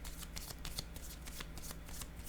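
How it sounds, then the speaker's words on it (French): A playing card is set down on a table with soft papery slides and light taps, close and quiet, as cards are handled through a short stretch. "Je vais déposer une carte à côté de la femme."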